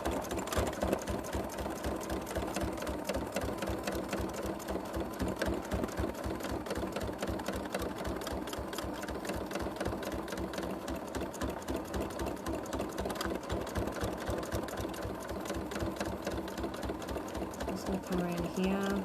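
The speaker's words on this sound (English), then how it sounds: "As soon as I start stitching, I can colour it in just with thread and it disappears." A sewing machine stitches thread across a fabric collage, running in a steady, fast mechanical whir with a rapid, even needle rhythm, close and loud throughout without stopping.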